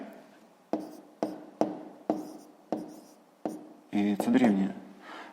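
Pen strokes on paper while math is written out, as a series of regular scratchy taps at an even pace, followed by a brief spoken voice near the end.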